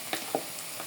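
Ginger, garlic and onions fry in a pan with a soft, short hiss and a couple of stirring scrapes, all brief and close.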